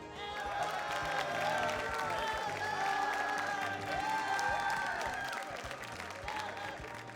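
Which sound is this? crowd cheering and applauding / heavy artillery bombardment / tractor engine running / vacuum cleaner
crowd cheering and applauding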